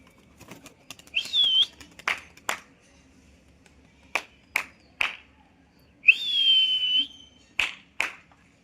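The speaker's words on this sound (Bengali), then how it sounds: "নটটাকে উড়াবো নটটাকে উড়িয়ে দিই" A domestic pigeon released and taking off, with sharp wing claps in short bursts alongside two long human whistles, close and clear over a quiet background.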